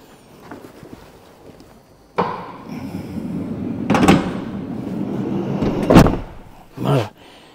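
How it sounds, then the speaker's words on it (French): A door slams shut on a 4x4 off-road camper van, with sharp thuds around four, six and seven seconds over a steady rumbling background. "Je vais fermer la porte."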